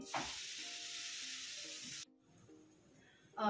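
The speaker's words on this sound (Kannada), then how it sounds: "ಅದಕ್ಕೆ ನಾನು ಈ ಬೀಟ್ರೋಟನ್ನು ಹಾಕಿ ಚೆನ್ನಾಗಿ ಫ್ರೈ ಮಾಡ್ಕೊತೀನಿ" Grated beetroot frying in ghee with raisins and cashews hisses in a close, bright sizzle that cuts off abruptly after two seconds, leaving a faint hum before the sizzle returns briefly at the end.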